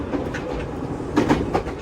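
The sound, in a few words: train running on the line to Mount Fuji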